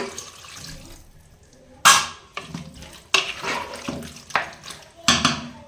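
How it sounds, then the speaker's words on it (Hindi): Water poured from a glass into a pot of onion, tomato and meat for a Hyderabadi potato, okra and mutton stew, heard as several short splashy bursts close by, with faint clatter between pours. "इसमें मैं डाल रही हूँ 1 गिलास भर के पानी।"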